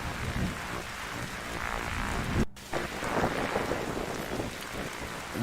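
A steady rain downpour with thunder rumbling through it, from The DarkSide Detective, dense and unbroken apart from a brief cut midway, with no voices.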